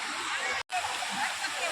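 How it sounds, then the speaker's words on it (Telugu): A waterfall pours down from the Tirumala hills at Nagaravanam park in Tirupati, a steady rushing wash of water broken by one brief dropout. "చూసారా వాటర్ ఫాల్స్, ఇది తిరుమల నుంచి పడుతున్నాయి"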